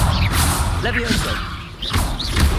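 Levioso spells cast in Hogwarts Legacy produce quick rising and falling whooshes with soft thuds, repeated in fast succession over a dense game soundscape.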